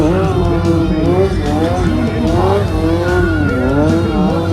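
At an arena freestyle motorsport show, a street bike spins a circle wheelie, its engine revving and wavering loudly and continuously, mixed with tire squeal, while an announcer talks over it throughout.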